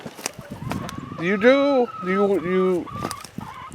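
Young chickens being moved from a brooder to a big coop give two drawn-out, wavering calls in quick succession, close by, between brief bits of a person talking.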